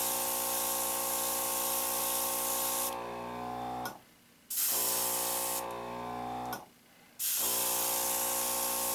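Candy yellow base coat sprayed from an aerosol can onto a diecast car, a loud continuous close hiss broken by two short pauses, each followed by a fresh burst.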